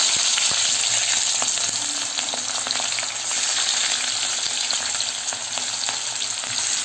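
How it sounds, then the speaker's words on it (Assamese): Onions frying in the hot oil left from frying eggs and potatoes for an egg curry, a loud, steady crackling sizzle with occasional pops, close up and uninterrupted. "এতিয়া আন্দা আৰু আলু ভাজা তেলখিনিতে দি দিম মই পিঁয়াজ"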